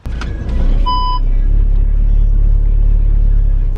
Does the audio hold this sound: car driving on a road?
yes